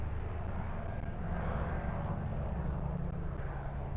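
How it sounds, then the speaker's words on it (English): Aircraft passing overhead outdoors, a faint, distant engine drone that swells slightly and fades, steady and alone with no talk. "There's a helicopter."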